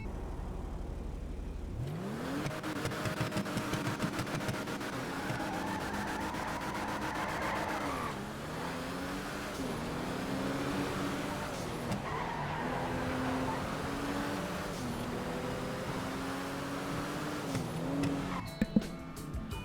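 A Benefactor Vorschlaghammer car engine in a video game revs and accelerates repeatedly, pitch rising through gear changes, with brief tire squeal near the end; a synthetic, game-like engine tone throughout.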